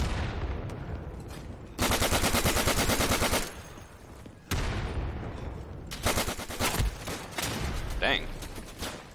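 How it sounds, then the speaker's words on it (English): Lewis gun in the World War game Day of Infamy firing long, loud sustained automatic bursts, with sharp individual shots and pauses between strings of fire. "Really rare for me, I have a Lewis gun."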